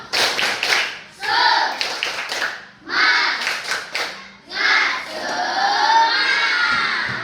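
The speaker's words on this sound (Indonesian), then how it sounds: "Coba dulu kita tepuk semangat." Elementary schoolchildren at SD Negeri 095550 in a classroom perform the tepuk semangat clap chant, rhythmic bursts of group clapping interleaved with chanted voices in several short phrases, loud and close, ending in a sustained shout.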